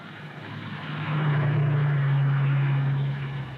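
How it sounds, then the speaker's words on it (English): An AI-generated car sound effect: a steady engine drone swells up and holds at a loud, even level, with a low humming tone, then fades slightly at the end, with no voices. "they've got the sound effect of a car here."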